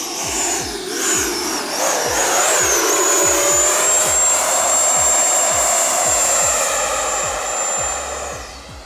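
FMS Avanti 90mm EDF RC jet screams past close by, a loud high-pitched ducted-fan whine that holds steady then slowly fades, over a rushing airflow roar.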